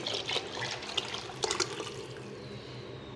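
Meat cooking water is poured into a pot of mutton curry, giving a quiet, watery splashing and trickling with a few brief spurts and a louder splash at the very end.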